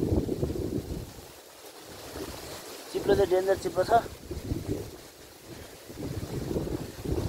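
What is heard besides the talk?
strong wind blowing on a hilltop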